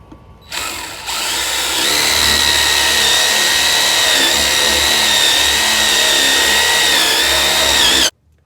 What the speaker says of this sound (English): I'm gonna drill into it with a 3/4 inch bit